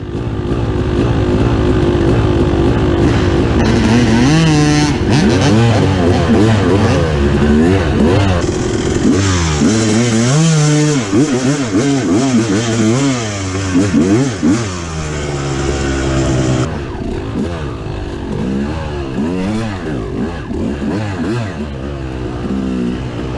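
Motorcycle engine on a trail ride after hurricanes, loud and close, revving up and down repeatedly with rising and falling pitch sweeps and some clatter, easing to a lower idle toward the end.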